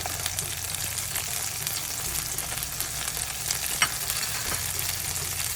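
Tomato sautéing in a pan with tamarind and coriander for a Tirupati-style coconut thuvaiyal, a steady low sizzle with occasional stirring scrapes, close and continuous, no talking.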